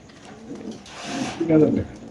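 Chuital racer pigeons coo softly in low, rolling calls, close by, mixed with a murmur of background voices.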